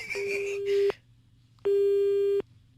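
Two bursts of a steady electronic telephone busy tone after a hang-up, the second longer and uninterrupted, with a woman's faint speech just before the first.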